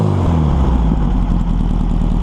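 An engine runs through a Volkswagen stinger exhaust with a close, steady, throbbing rumble at low revs for a couple of seconds. No one speaks.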